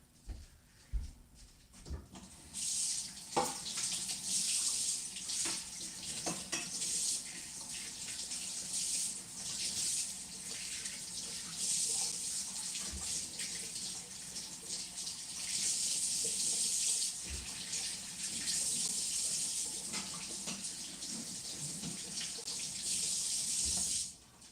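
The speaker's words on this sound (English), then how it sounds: "I'm just gonna rinse this off real quick." A kitchen tap runs steadily while food is rinsed under it, a close continuous rush of water with small splashes and bumps that lasts almost twenty-five seconds.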